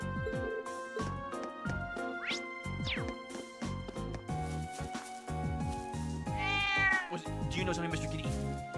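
Cat meows in the game The Legend of Heroes: Trails of Cold Steel, several short cries rising over steady background music and game sound effects, fairly close and clear.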